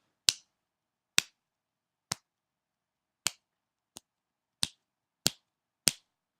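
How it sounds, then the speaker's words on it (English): Eight sharp, isolated finger snaps with uneven gaps between them, crisp and close, each a short dry click against silence. "Damn it, I can't snap my fingers."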